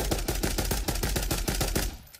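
Rapid automatic gunfire from a shooter video game, a steady burst of about a dozen sharp shots in quick rhythm that stops abruptly near the end.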